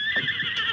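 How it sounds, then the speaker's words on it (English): A horse whinnies a short, low warning, close and clear over a steady background tone, with no talk. "He pawed the ground restlessly and whinnied a low warning."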